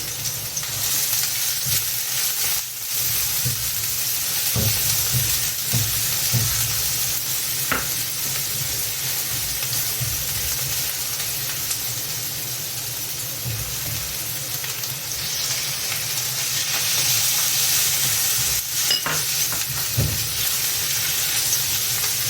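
Chopped onion, pepper and garlic fry in a pan with a steady, dense sizzle and hiss, broken by occasional scrapes and taps of a stirring utensil, close-up and continuous with no talk.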